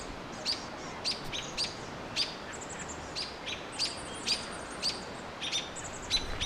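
Small birds chirp and call in short, repeated bursts while mobbing a barred owl in a Canadian park at dusk; sharp high tweets recur steadily throughout, moderately near, over a soft background hiss.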